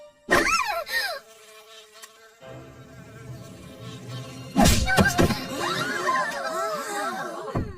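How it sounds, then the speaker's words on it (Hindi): Cartoon bee buzzing in wavering, swooping tones, heard in two loud bursts with a thump, alongside other animated sound effects and music in the background. "वहाँ मधुमक्खी थी"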